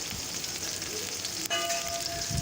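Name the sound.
onions frying in a pan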